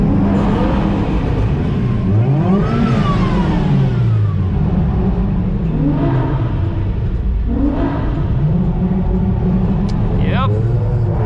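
A car drives through a tunnel at night in a convoy of Japanese-import cars, with a loud, steady engine rumble and reverberant revving that swells and fades as it passes, filling the whole stretch without letup.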